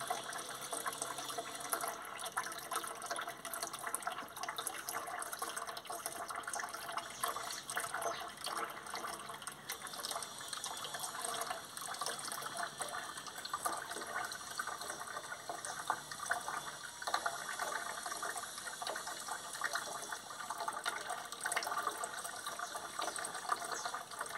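Water is poured onto a flowering guapé plant, a steady soft gush of liquid that runs unbroken throughout, fairly faint, with no talking.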